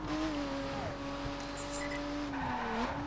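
A slow car in The Crew racing game accelerates with a steady engine drone that rises and dips in pitch, tires squealing throughout, loud and continuous.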